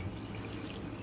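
Low-TDS water is poured steadily into a carnivorous plant pot to flush its growing media, making a faint, continuous trickling wash with no voices.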